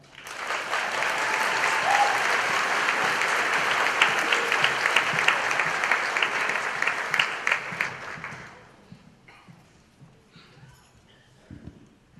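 Audience applause rises at once and holds steady for about eight seconds at a high school graduation ceremony, then fades into quiet room noise with a few scattered claps.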